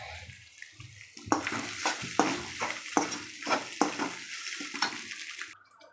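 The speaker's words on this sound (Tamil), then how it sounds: "அப்படியே வதக்கி விட்டுக்கலாம்." Chicken masala being sautéed in a pan on a stove over low heat, with spices added: a steady sizzle runs underneath repeated scraping stirs of a spoon against the pan, close and fairly loud, with no talking.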